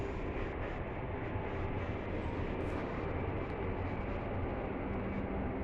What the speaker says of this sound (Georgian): როგორც ჩანს, ჩვენთან გაიარა მატარები